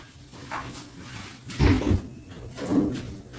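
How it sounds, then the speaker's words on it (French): A door is opened indoors at home to let a cat in. A few soft, close clunks and rattles of the latch and door, with no talking. "je reviens vite fait, j'ouvre la porte au chat"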